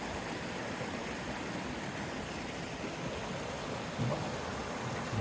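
A woodland stream runs high after recent rains, a steady close rushing of water that fills the whole stretch without pause and without voices.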